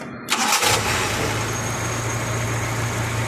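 A carbureted engine, just adjusted, cranks briefly and catches, then settles into a steady, even idle, close by and fairly loud, with no voices.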